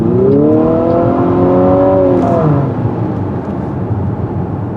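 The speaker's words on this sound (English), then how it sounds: "Nice strong engine, by the way" A 2022 Infiniti QX55 engine revs hard and loud nearby, its pitch climbing, then eases off into a lower drone.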